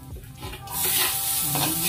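Chopped onions sautéing in a little oil: a quiet opening gives way to a sudden loud, steady sizzle that holds close and even to the end.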